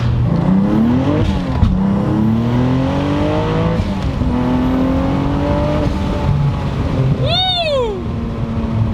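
A 650 hp Cadillac ATS-V with a twin-turbo V6 accelerates hard, its loud engine note rising steadily through the gears with brief dips at each shift, heard from inside the cabin.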